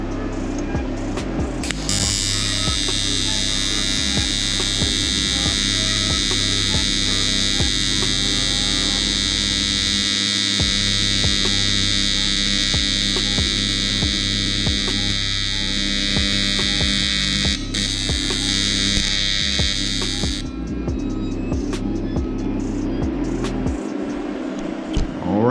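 An electric welder buzzes loudly and steadily for a long stretch while tacking an oil catch can for a 240sx, a harsh continuous hum close by with a low mains drone underneath and no talk.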